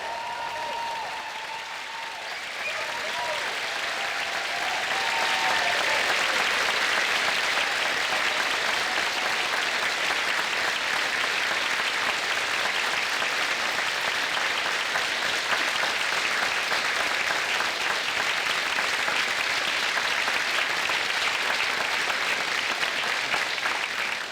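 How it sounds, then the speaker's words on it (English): Sustained, full applause from a large graduation ceremony crowd for the Marine Institute class of 2024, building in the first seconds and then holding steady and loud for the rest. "I want one rousing round of applause for the graduates of 2024 from the Marine Institute"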